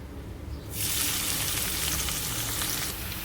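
Chopped onions drop into hot oil and a loud, steady sizzle starts suddenly, then continues evenly close by.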